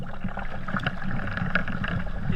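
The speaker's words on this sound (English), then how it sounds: "It's a bit unnerving when you hear a wave breaking behind you." Ocean surf breaking and churning around a swimmer at Exmouth, a steady close rush of water and splashing that holds through the whole stretch with no voices.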